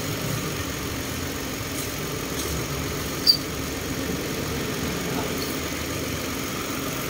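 A Mitsubishi Mirage engine idles steadily during a CVT fluid change, a low, even hum with one brief click partway through and no talk.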